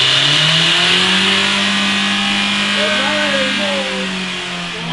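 A diesel engine in runaway holds a loud, steady, high revving roar with a whining pitch that shifts slightly, close up and continuous.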